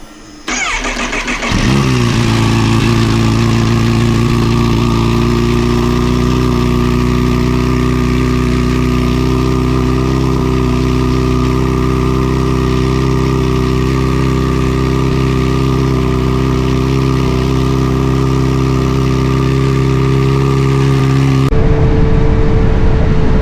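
An R10 motorbike with a swapped exhaust baffle starts up and settles into a loud, steady, rumbling idle at close range for about twenty seconds, then a brief rev at the end.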